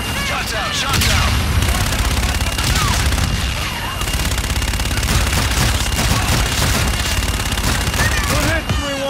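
Gunfire in the Battle of Geneva mission of Call of Duty Infinite Warfare: dense, loud, sustained bursts of rapid shots blend into a near-constant barrage of battle noise.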